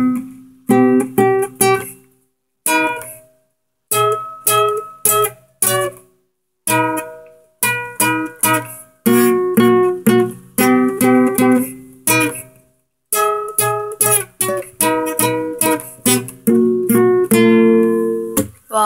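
An electric guitar plays a song with the strings pinched and pulled, giving sharp plucked notes and short chord stabs in clipped bursts separated by brief silences, close and loud, no talking.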